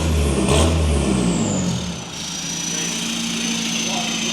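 Mk3 Volkswagen Scirocco TDI diesel with a full straight-pipe exhaust, revved at a standstill: a loud, low engine roar that swells in the first two seconds, then settles into a steady idle drone, with people talking nearby.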